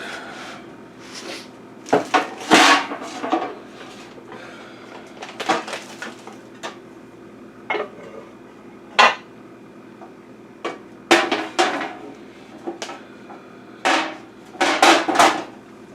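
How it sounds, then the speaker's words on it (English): Kitchen clatter while a baking dish is pulled out from among stacked pots and pans: irregular knocks and bangs of cookware and cupboard, some sharp and loud, scattered across a quieter room background with no talk. "Get my baking dish out."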